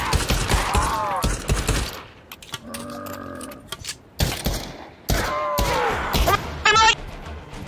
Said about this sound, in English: Hey, why are you shooting me for?